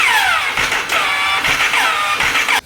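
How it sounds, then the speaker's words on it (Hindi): A Jawa Yezdi motorcycle with a faulty self-starter, its starter motor cranking loudly in repeated whining bursts, each one sweeping downward in pitch, with short breaks between them. "गाइस बाइक का नॉइज़ कुछ इस तरीके से आ रहा है,"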